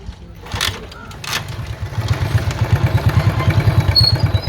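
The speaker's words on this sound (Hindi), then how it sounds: "हम लोग सिस्टर की उस बाइक पे जा रहे हैं और हम जा रहे हैं फटपटी पे" A motorcycle engine, a phatphati motorbike, starts up and settles into a loud, rhythmic putter close by.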